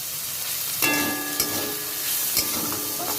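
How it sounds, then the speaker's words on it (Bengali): Eggplant sizzles in hot oil in a pan, a continuous bright hiss with a few scraping stirs, close and steady with no talking. "বেগুনটা আমার একদম নরম হয়ে গেছে আর ভালো করে বেশ ভাজাও হয়ে গেছে"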